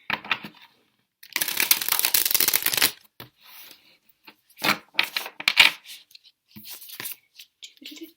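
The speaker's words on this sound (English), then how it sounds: "I'm actually just going to do a proper shuffle as well." Tarot cards being shuffled in a long riffling burst, followed by several shorter flicks and taps of cards handled up close.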